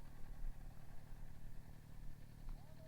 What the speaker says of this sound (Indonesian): Ini motor gua Ninja 400.